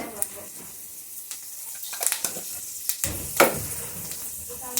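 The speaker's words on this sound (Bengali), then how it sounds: "এখন মেথি ফোড়নে দেব অল্প পরিমাণ মেথি দিয়ে দিচ্ছি" Fenugreek seeds crackle and sizzle faintly in hot oil as a tempering for a jute-leaf dish, with soft scattered pops and a few light kitchen clatters.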